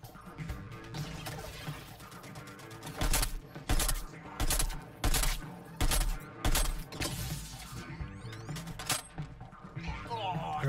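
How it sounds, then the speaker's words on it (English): Sniper rifle shots in a video game ring out as a series of sharp, evenly spaced loud cracks over a busy game soundscape, then fade into quieter background sounds. "I got hit by another sniper."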